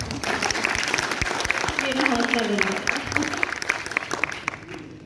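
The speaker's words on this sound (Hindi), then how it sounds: "एक बार ताली बजा दीजिए।" A seated audience at an Urdu literary festival in Lucknow claps steadily and warmly while someone talks over the applause.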